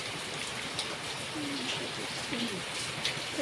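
Rain falls steadily in an even patter and hiss, with a few faint higher tones drifting over the wash.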